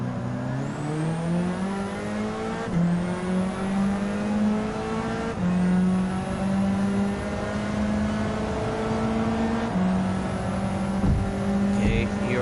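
A racing car engine in Gran Turismo 7 drones loudly and continuously, climbing in pitch through gears with repeated upshift drops, a sustained close-up whine over the whole stretch.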